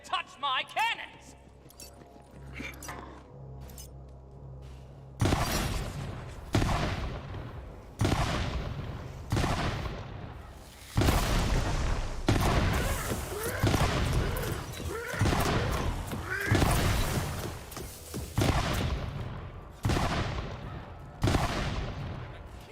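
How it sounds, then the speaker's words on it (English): Cannon fire in the fantasy shooter Tiny Tina's Wonderlands, a rapid series of loud booming blasts and impacts, one after another over game noise. "takes multiple cannon shots to destroy those"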